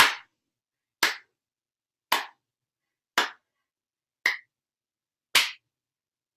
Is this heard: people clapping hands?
yes